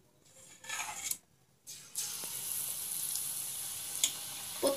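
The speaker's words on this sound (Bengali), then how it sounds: "আরেকটু ব্যাটার আমি এর মধ্যে দিয়ে দিব ফ্রাই করার জন্য।" After a few clinks of metal, malpua batter poured into hot oil bursts into a bright, steady sizzle that carries on close by, with no talking.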